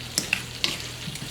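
Apples cooking down in butter with a hint of cinnamon into a caramelized base, giving a soft, steady sizzle close by with a few small pops and stirring sounds, no voices.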